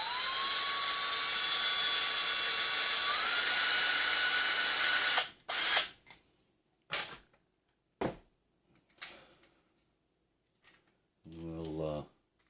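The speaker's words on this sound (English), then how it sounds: "We'll drill that hole just a little bigger." A power drill bores a hole through a rock crawler axle in one loud, sustained run of about five seconds, its pitch stepping up midway, then several short bursts as the bit is worked again to enlarge the hole.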